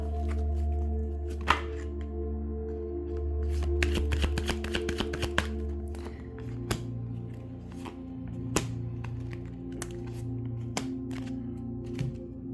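Tarot cards being shuffled by hand, a steady papery riffle and slap of cards with sharp clicks, close and clear over a low background hum, with no talking.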